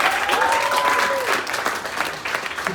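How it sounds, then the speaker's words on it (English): Audience at a live rock concert at Bottom of the Hill in San Francisco applauds the sound tech, loud dense clapping that fades gradually, a faint held tone underneath at the start. "Can we have a round of applause for our sound tech"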